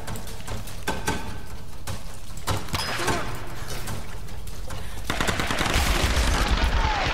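Enemy gunfire in Tomb Raider (2013) inside a cave, sharp scattered shots and rapid bursts echoing close by, growing into a dense rattle toward the end, with no talk heard.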